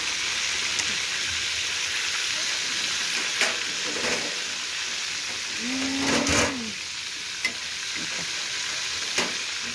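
Steady crackling sizzle of fish frying in hot oil, continuous and close, with a few faint clinks and a brief low hum partway through.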